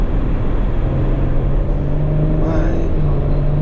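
A 2019 Porsche Cayenne S engine hums in a steady, smooth low drone throughout, with a brief swell in revs partway through.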